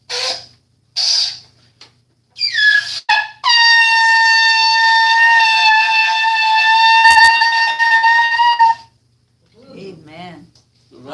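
A ram's horn shofar is blown for the new month in a church service, one long steady blast lasting about five seconds after short rising notes, with talk and voices before and after.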